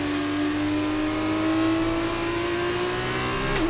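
An F2 race car engine revs and climbs steadily in pitch under acceleration on the Las Vegas circuit in the racing game F1 23, heard loud and close with no talk over it.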